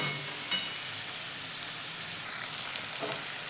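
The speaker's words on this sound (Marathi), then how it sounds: "वांगे छान तेलामध्येच परतून घ्यायचे, म्हणजे भाजीला टेस्ट छान येते।" Eggplant and dal sizzling in hot frying oil, a steady soft hiss with a few faint clicks and stirring taps, no voices.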